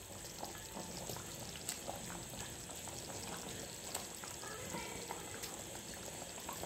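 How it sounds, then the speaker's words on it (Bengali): A pot of home-style fish curry broth at a low rolling boil, giving a soft, continuous bubbling hiss with faint pops, steady and fairly quiet throughout. "আমার ঝোলটা ফুটে গেছে।"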